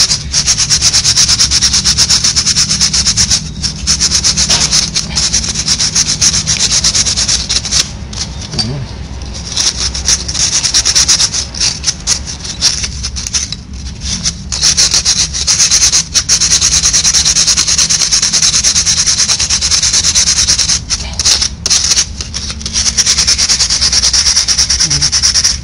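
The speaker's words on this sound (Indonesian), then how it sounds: "menggunakan amplas atau kertas gosok" Steady, rough scraping of sandpaper rubbing back and forth on front brake pads of a Suzuki Address scooter, continuous and close for the whole stretch with only brief pauses.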